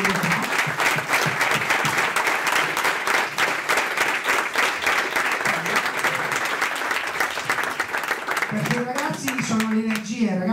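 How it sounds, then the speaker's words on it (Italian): Sustained applause breaks out for the tutors at a classroom technology presentation, loud dense clapping from the audience for about eight seconds before it thins and a voice begins speaking over the tail. "vi chiedo subito di fare un applauso ai tutor"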